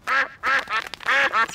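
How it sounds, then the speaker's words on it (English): Cartoon ducks on a frozen pond quack in four loud, close bursts, two pairs separated by short pauses, with no talk over them. "Hello, ducks."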